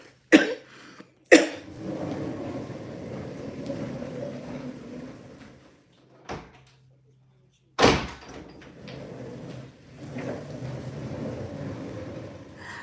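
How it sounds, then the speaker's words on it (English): An indoor door is shut with a few sharp thuds spread across the stretch, separated by quiet room noise and what may be a cough. "I shut the door, but it probably ain't gonna keep the sound out"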